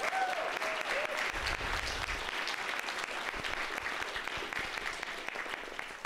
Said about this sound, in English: Give Jeffrey a round of applause